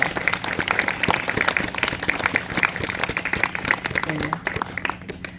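An outdoor concert audience at a Joseon royal tomb gives a traditional Korean singer a big round of applause, steady crowd clapping with individual sharp claps standing out, continuing evenly throughout.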